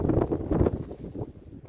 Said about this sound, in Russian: Только сказал, подул ветер.